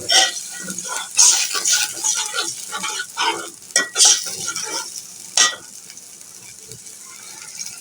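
Onion and ginger-garlic paste sizzle and crackle in a frying pan as a little water is added, with stirring scrapes and a few utensil clinks against the pan, close and steady.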